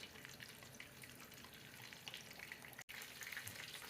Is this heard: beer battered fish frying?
yes